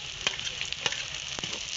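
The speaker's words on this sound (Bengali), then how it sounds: "আদাটা তেলের মধ্যে একটু ভেজে নেব" Ground ginger paste sizzles in hot oil with a soft, continuous hiss, broken by a few sharp pops and spits.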